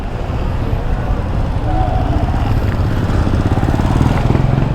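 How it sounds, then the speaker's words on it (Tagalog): Road traffic noise heard from a Yamaha Sniper 155R motorcycle riding in the Philippines, with a steady, loud engine and road roar and passing vehicles, and a voice speaking over it. "Big traffic."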